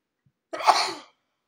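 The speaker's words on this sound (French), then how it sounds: "alors je vais éternuer" A single short, sharp burst of breath like a sneeze or cough erupts from near silence, lasting about half a second before stillness returns.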